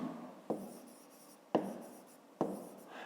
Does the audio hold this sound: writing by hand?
yes